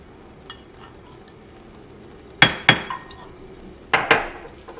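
Whole spices dropped into hot oil for a pressure-cooker chicken curry, giving two pairs of sharp clatters and sizzling bursts against a quiet kitchen background, with a few faint clinks earlier.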